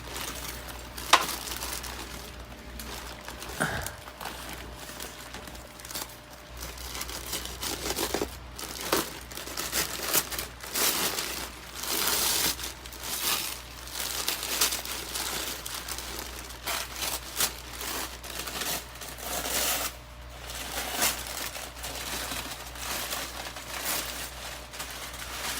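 A very large orchid is unpacked from crinkly plastic packaging indoors, with steady crumpling and crinkling close to the mic, occasional tearing and rustling bursts throughout, and no talking.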